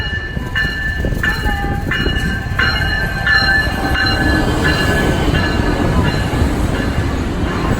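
A new higher-speed Amtrak train passes loud and close, a steady rumble of wheels on rail under a series of high squeals, with no voices.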